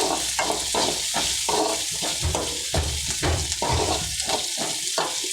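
Coriander and onion frying in a pan, a steady bright sizzle with rhythmic scraping and stirring strokes, close and continuous with no talking.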